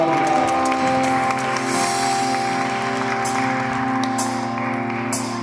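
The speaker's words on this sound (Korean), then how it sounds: "우리 다시 한번 주님께 감사한 찬양의 박수로 화답하기 원합니다." A church congregation claps in praise during a Sunday worship service, a continuous wash of applause over sustained keyboard or band chords, close and fairly loud throughout.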